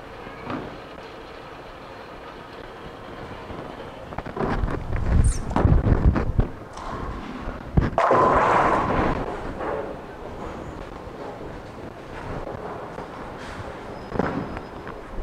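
Roto Grip Hyped Solid bowling ball rolling down an alley lane, a low rumble building over several seconds, then a sharp crash of pins followed by fading clatter, heard at some distance in a bowling center.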